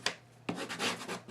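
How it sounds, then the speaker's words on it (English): Paper being burnished down on a mini album cover, giving a few soft, close rubbing strokes, quiet and with no voices. "I want to give it a good burnish"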